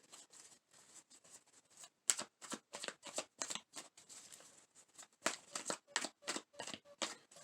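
Tarot cards riffled and shuffled in quick bursts of crisp flutters, close up, with brief pauses and taps between shuffles.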